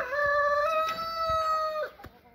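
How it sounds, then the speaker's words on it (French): A Porcelaine rooster in a pen with four hens gives one long, close crow that holds steady for nearly two seconds and then breaks off, followed by quieter pen noises. "le troisième parc de porcelaine est constitué de 4 poules et d'un coq"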